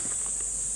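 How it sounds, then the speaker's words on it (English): Cicadas on a forested mountain trail give off a steady, bright, high-pitched drone that holds without a break, with faint rustling below it. "Can you hear the cicadas?"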